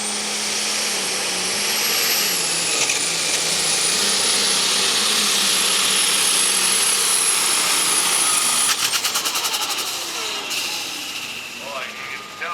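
An Allis Chalmers D21 tractor at a tractor pull, its engine roaring loud and sustained with a high whine before the sound cuts off and fades near the end.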